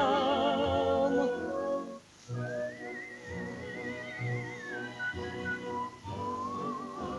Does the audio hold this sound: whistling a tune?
yes